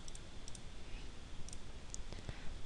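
A few faint, sharp computer mouse clicks, including a right-click, stand out against a low steady background hum.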